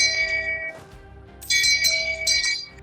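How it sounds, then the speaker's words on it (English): A small hand-held bell rings in two bright bursts of shaken jingling, close and clear, with a short pause between them. "I have my shame bell ready, I'll have you know."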